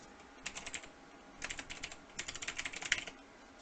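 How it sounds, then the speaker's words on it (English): A URL being typed on a computer keyboard, with quick bursts of light key clicks in uneven runs, close and clear with no talk. "if I type a URL in here"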